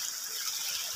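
Water flowing out from an underground spring where people do laundry, a close, steady gushing rush with a bright hissing spray, continuous and fairly loud for the whole moment.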